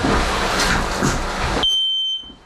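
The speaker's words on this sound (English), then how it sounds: "So in an open flaming fire, the ionization detectors go off quicker." A smoke detector alarm sounds during a fire test: a piercing steady beep comes in partway through, first over loud roaring noise, then alone as the noise cuts off.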